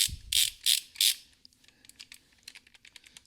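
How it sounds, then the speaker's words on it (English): A Precise Built torque wrench, model 2748, set to 90 foot-pounds, gives three loud, close clicking bursts, then a rapid run of lighter ratchet clicks. "I'm going to go ahead and see how it does. The ratchet feel is good on it."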